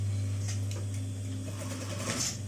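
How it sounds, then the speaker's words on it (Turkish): A sewing machine runs steadily, stitching the hem of denim jeans being taken in, with a constant low motor hum and a faint rhythmic needle clatter, close and alone. "Paçamızın daralma işleminin dikiş kısmını yapıyoruz."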